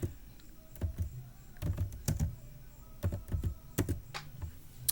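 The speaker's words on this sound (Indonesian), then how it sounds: "yang selanjutnya kita akan ketikkan perintah lsl." Keys clatter on a computer keyboard as a Linux ls -l command is entered, a run of sharp uneven clicks in small bursts over a low steady room hum.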